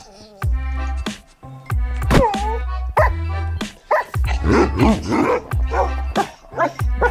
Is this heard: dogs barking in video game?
yes